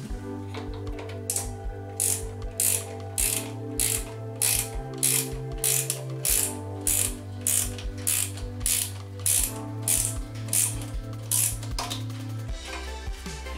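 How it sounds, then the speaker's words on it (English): A ratchet wrench with a 5/8 socket tightens the nuts of a Bemis Whisper Close toilet seat, producing close, rhythmic bursts of clicking, pausing briefly between strokes in a steady repeating pattern. "let's go ahead and tighten them down with a 5/8 socket."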